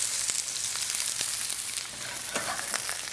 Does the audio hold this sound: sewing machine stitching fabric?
no